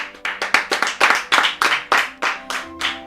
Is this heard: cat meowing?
no